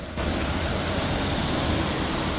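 A column of water gushes up from the ground like a fountain, producing a steady, loud roaring rush of spray that holds without a break throughout.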